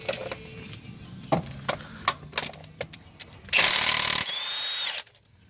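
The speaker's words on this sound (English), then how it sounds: "Let's pull the crank pulley off." Tool work on the crank pulley of a 2007 Honda Accord V6: scattered sharp metallic knocks and clicks, then a loud sustained burst of a power impact tool lasting about a second, fading into a quieter whir.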